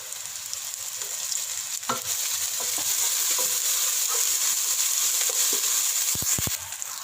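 Sliced onions sautéing with a little salt in a pan for veg pulao, a steady close sizzle with stirring scrapes and a few sharp clinks near the end, no voices.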